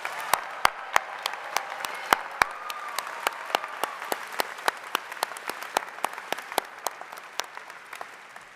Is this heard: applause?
yes